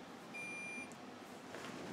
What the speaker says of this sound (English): I just had a beep, and I'm trying to figure out what beeped.